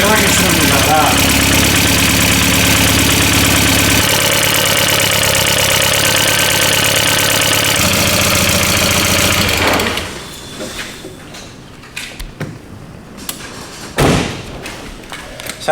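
A barn-find Volkswagen GTI engine idles with a top-end rattle and knocking, as if running with no oil pressure. It runs loud and steady for about ten seconds, then drops to a quieter rumble broken by occasional thumps.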